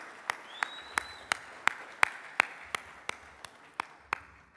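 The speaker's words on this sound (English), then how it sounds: "Give a round of applause." At an EO San Diego entrepreneurs' event, a round of applause comes through as about a dozen crisp, evenly spaced claps in a slow steady rhythm, close and clear over a quiet room.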